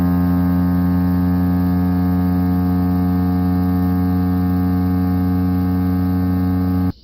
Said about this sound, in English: This is going to suck all the air out of this container.